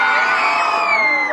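A crowd at an outdoor Christmas market shouts together in a loud sustained collective yell to vote for a song, cheering and whooping as one mass of voices.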